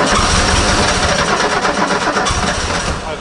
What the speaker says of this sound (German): jetzt probiere ich das Auto mal anzulassen und jetzt dürfte die Benzinpumpe, die originale mechanische Benzinpumpe, es schwer haben, die Vergaser zu befüllen